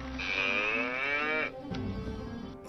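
A cow's long, drawn-out moo played as a sound effect in a dubbing studio, a single loud bovine call of about one and a half seconds followed by quieter rustling and a sudden thump at the end.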